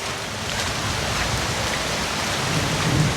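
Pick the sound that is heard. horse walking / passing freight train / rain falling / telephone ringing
rain falling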